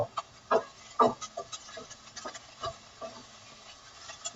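Onions sautéing in a pan for a sprouted mung dish, stirred with a spoon that gives several sharp scraping knocks over a faint sizzle, close and fairly quiet, with no talking.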